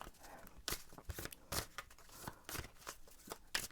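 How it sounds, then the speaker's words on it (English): Tarot cards being shuffled up close during a card reading, a series of quick riffling bursts and soft papery slaps in an irregular rhythm, fairly quiet with no talking. "I'm gonna shuffle and see what the cards have to say"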